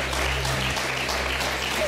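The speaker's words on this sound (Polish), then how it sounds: "Nie klaszczą coś kiepsko." Studio audience applauding on a Polish TV game show, a steady dense clapping that fills the whole moment at close, even loudness with no talk over it.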